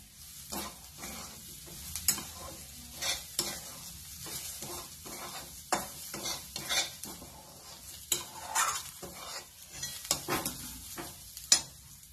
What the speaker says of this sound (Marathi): एकसारखं हलवत राहायचं म्हणजे खाली करपणार नाहीये